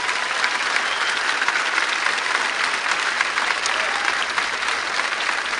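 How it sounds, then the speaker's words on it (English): Steady, dense applause fills a high school graduation ceremony, a large crowd clapping continuously and evenly throughout at close range. "Thank you for your applause."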